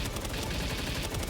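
Rapid automatic gunfire in the survival video game Palworld, a dense continuous burst of shots filling the whole moment, loud and close with no talk over it.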